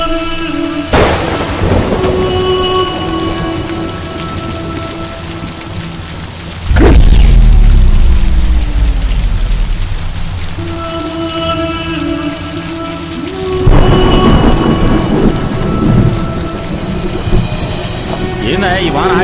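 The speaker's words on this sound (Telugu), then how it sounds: "ఏందా ఈ వాన ఆగేటట్లేదు? తుఫాన్ అని చెప్పారుగా." Heavy storm rain pours steadily while deep thunder claps break out several times, each a loud rumbling burst.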